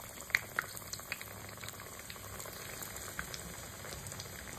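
Tapioca cutlets fry in hot oil in a kadai, giving a faint, steady bubbling sizzle with a few small pops near the start.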